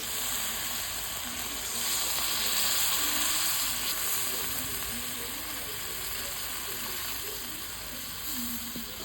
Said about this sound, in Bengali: এবার ভেজে রাখা মাছগুলো দিয়ে দিচ্ছি এবার এটা আমি জলটা দিয়ে দিচ্ছি